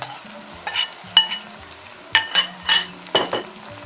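A spoon stirs a pot of soft, mushy beans stew in a series of separate scrapes and clinks against the metal over a low background hum, with no voices.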